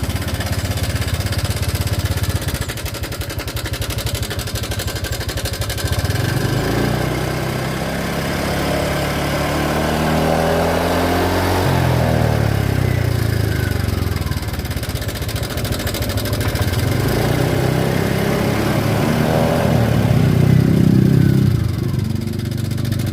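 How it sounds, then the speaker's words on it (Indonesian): A Honda Vario 125 scooter engine idles and revs roughly with a rattling, uneven tone that swells and falls in a few throttle blips. It runs close and steady for the whole stretch, with no talk. "Ini ada Vario 125 yang bunyinya kasar, seperti suara gelitik begitu ya."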